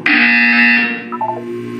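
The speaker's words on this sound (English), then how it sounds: "When you hear the buzzer, look down at the floor." A single loud electronic buzzer from the video game Portal 2 sounds as a harsh, steady tone for about a second, then breaks and fades into a fainter hum.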